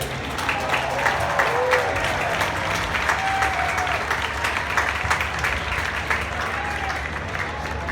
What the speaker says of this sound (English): A round of applause for the newest Athletics Hall of Famer, Eddie Joost